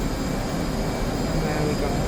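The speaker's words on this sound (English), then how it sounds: "go up throttle a tiny bit, halfway, and then afterburner" F/A-18C jet engine spooling to afterburner for take-off in DCS: a loud, steady, broadband roar with a constant high whine, continuous throughout, under a voice talking.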